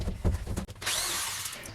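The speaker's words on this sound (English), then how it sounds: "I'm pre-drilling my holes all the way around the window" A power drill pre-drilling holes in wood around a window opening in a food truck trailer: a brief rattling start, a pause, then a steady, loud high-pitched whine as the bit bores into the wood.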